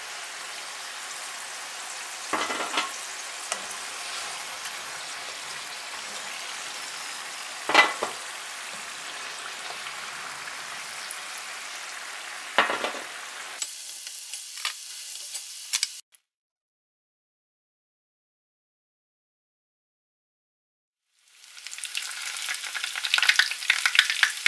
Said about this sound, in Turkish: Önce patatesleri kızgın yağın içerisine alıyorum.